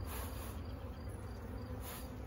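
Faint, steady buzzing of honeybees in an opened single brood chamber hive, a continuous soft hum with no voices over it.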